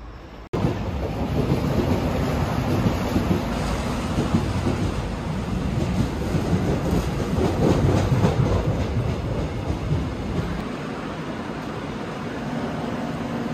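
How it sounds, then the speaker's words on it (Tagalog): Seoul subway train approaching the station, a loud rumbling roar with rail clatter that swells and builds over several seconds, near and continuous, after a brief quiet moment at the start. "Approaching na daw yung train."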